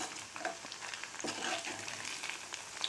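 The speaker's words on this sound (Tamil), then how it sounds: "இட்லி இந்த மாதிரி ப்ரௌனாக ஃப்ரை ஆகிடுச்சு" Leftover idli pieces fry in oil until brown, giving a quiet, continuous sizzle with soft bubbling crackles throughout.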